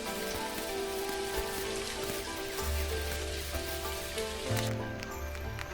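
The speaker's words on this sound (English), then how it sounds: "maybe we can just go quickly see rain right now" Rain falling in the farming video game Dinkum, a steady hiss of pattering drops mixed with soft sustained game music tones, no voices.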